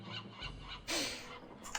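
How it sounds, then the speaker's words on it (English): Seagulls call in the Escape from Monkey Island game, a few bird cries rising over a busy game soundscape, with one brighter, louder burst near the middle. "Well, I can hear some seagulls."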